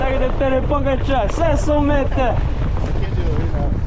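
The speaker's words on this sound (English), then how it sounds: "It's windy. It's really windy" Strong gusting wind buffets the microphone at the feed zone of an outdoor mountain bike race course, a steady roar under close, continuous talking.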